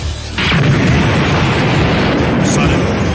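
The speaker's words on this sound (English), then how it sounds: "Suddenly, an explosion rang out from the heart of the city." A loud explosion bursts out in the heart of a city in Dragon Ball Z Budokai Tenkaichi 2, a sudden boom followed by sustained rumbling destruction.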